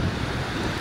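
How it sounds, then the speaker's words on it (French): Brief gusts of wind buffet the microphone beside the water on the Gaspé coast in autumn, a low, rumbling roar with faint surf-like wash, fairly quiet and steady, no talking. "il y a beaucoup de vent qui vient vers de ce bord là"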